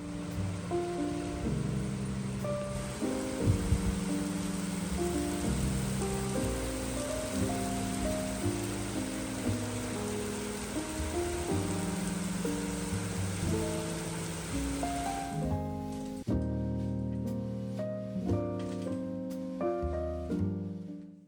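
Steady rain falls outside, a soft continuous patter heard faintly under music for most of the stretch, with scattered drips and splashes near the end.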